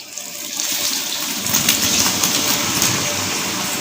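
Chopped ripe tomatoes hit a hot pan for mushroom biryani, setting off a sudden, steady sizzling hiss that stays loud and even throughout, with no talking.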